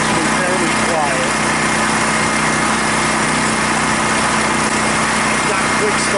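A Wen DF electric-start dual-fuel generator runs with a steady, buzzy, high-pitched engine hum that stays fairly loud and constant from start to finish.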